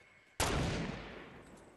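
Single gunshot in the video game Fortnite, one loud abrupt blast with a long fading tail, heard alone without talk.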